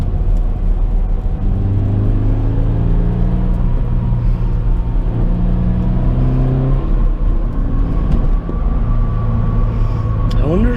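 A Subaru BRZ engine hums and drones steadily from inside the cabin while driving, with rising and falling tones as it pulls through the gears and a constant road rumble underneath.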